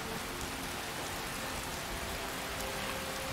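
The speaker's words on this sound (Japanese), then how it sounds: "また雨だ" Steady rain pours down in the fantasy video game Skyrim, a dense, even hiss of drops falling on the ground that holds constant and unbroken throughout, with no voices over it.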